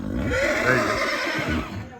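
A horse on a night ride gives a loud, close, quavering neigh lasting about two seconds over faint background noise.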